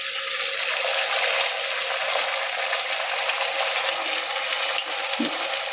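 Poppy and peanut paste frying in hot oil as coconut and green chili paste is added, giving a steady crackling hiss with a few faint knocks, close and continuous.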